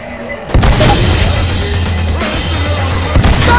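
A thrown explosive blows up in Left 4 Dead 2 with a sudden loud boom, followed by a rumbling, crackling aftermath and a second thud near the end.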